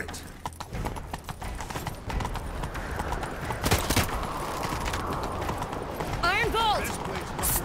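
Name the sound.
horse galloping hooves in video game The Witcher 3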